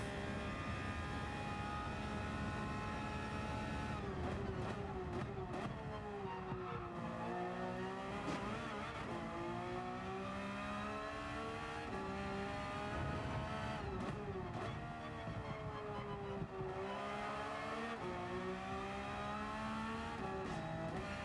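A race car at the Nürburgring in Gran Turismo 7 screams through the gears, its engine rising and falling in repeated sweeps as the throttle is worked on and off, loud and close throughout with no voices.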